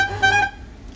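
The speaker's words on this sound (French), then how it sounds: "C'est tout simplement le klaxon complémentaire." The auxiliary horn of a 1971 Fiat 500 sounds one brief, nasal, steady-pitched toot close by, lasting about half a second before fading into low background hum.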